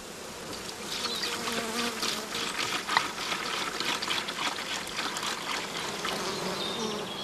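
Honeybees at a hive feeding on sugar water, a steady close buzzing hum of many wings with faint trickling, moderately quiet and with no talking.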